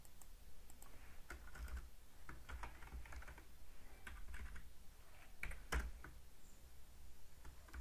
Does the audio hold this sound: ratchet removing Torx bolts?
no